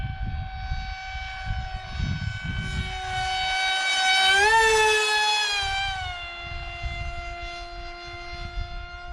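A Hobbyking Teksumo EPP flying wing RC plane with an electric motor, running at a little over half throttle: a high, whining buzz that rises and swells as it passes close overhead, then fades, with wind rumble around it.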